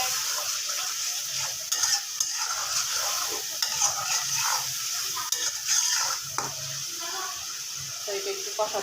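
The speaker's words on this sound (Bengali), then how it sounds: "এখন নাড়া দিয়ে দিব।" Spiced pangas fish with turmeric, chili, cumin and coriander powder is stirred in a pan: a steady sizzle with repeated scraping clinks of a spoon, fairly close.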